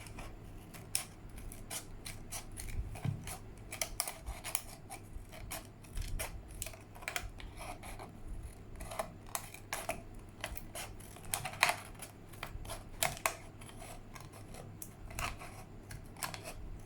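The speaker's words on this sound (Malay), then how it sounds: "So, sekarang dah ada gunting. Kita smoothkan dia punya" Scissors trim a surface to smooth it, making many small, rapid snipping clicks that continue steadily at low volume, close by and with no voices.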